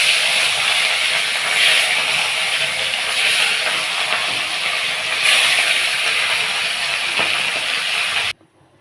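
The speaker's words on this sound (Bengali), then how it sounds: "বাকি মাছগুলো ভালো করে ভেজে নেব।" Fish fries in hot oil with a loud, steady hissing sizzle and steam that holds evenly for about eight seconds, then cuts off abruptly.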